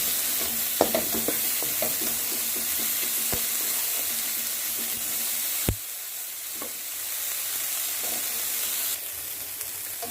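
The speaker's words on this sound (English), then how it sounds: "And we are going to continue sauteing for another minute" Egg, bell pepper and chorizo fried rice sautéing in a pan, a steady close sizzle with scattered clicks of a utensil stirring and scraping, settling slightly quieter partway through.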